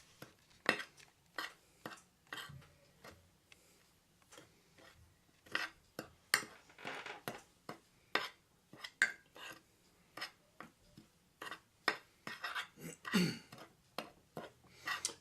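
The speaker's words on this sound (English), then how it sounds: "Okay, so we're just going to give that a quick stir." Metal utensil clinks and scrapes against a pot while a mixture seasoned with oregano is stirred, a steady run of sharp close taps and knocks with faint background voice.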